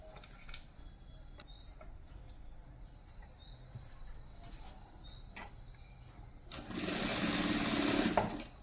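A home sewing machine fitted with a one-sided presser foot stitches thread piping onto cloth, a steady mechanical whir with faint ticking that swells louder and busier toward the end.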